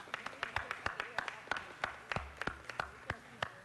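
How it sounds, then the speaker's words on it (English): Scattered hand claps from a small audience at a city council meeting, sparse and fairly faint, with uneven rhythm and no voices on top. "Let's give them one more round of applause for all of the great work."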